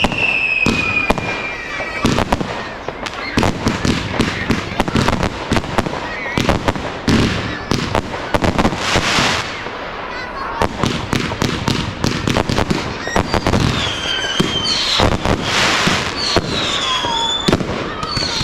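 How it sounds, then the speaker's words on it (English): Serpent Attack firework cake and V-fired blues and twos going off at a Liverpool display: a dense, loud barrage of rapid cracking bursts and pops with whistling effects, steady throughout, with occasional voices in the crowd. "Serpent Attack now from Celtic going off in the middle, with a V-fired blues and twos from Celtic."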